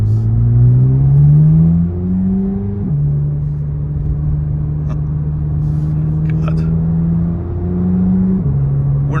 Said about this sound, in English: one of the only cars that I have ever heard a stock exhaust sound this good on